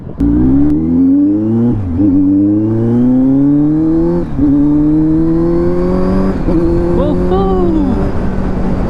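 A Kawasaki Z900 motorcycle engine runs while riding, a loud, close, steady drone that rises in pitch through the gears with brief dips at shifts and wind rush behind it.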